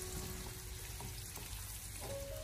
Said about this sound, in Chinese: 接着我们再把炸过的土豆片重新的回锅，然后再给它简单的翻炒几下